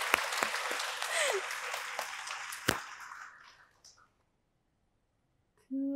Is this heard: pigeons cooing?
no